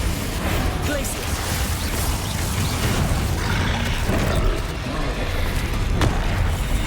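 Bombarda and Confringo spell blasts in Hogwarts Legacy, a dense run of booming bursts and crashes layered over continuous game noise, loud and close with no gaps.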